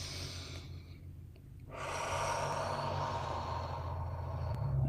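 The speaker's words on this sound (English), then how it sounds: "breathing in through the nose." A slow, audible breath drawn in through the nose during a guided meditation, soft at first and then swelling into a long airy inhale that continues to the end, with no talk over it.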